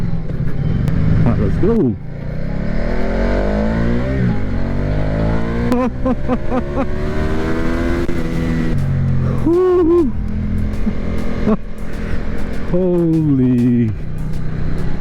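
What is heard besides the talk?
Ducati Diavel motorcycle accelerating hard in sport mode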